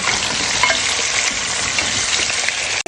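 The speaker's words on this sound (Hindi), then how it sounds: "गोश्त अच्छे से इसमें भून लेंगे" Beef frying with garlic ginger paste for aloo gosht, a loud, dense, continuous sizzle with stirring sounds, close up and without talk.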